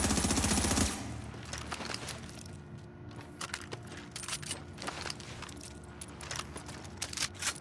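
Quick bursts of Bullfrog rifle fire in The Division crack in short, irregular clusters, fairly faint and distant, after a brief louder mechanical burst at the start.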